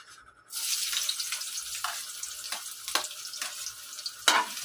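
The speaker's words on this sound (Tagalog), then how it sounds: "At ilagay na natin yung ating bawang." Garlic sautéing in a pan for a simple low-budget dish: a steady sizzle suddenly begins and holds, broken by a few sharp stirring scrapes and spatters, close and fairly quiet.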